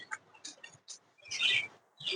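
A pet bird with one paralysed leg chirps in short bursts, alternating brief high tweets with quiet pauses, close and fairly faint with no voices.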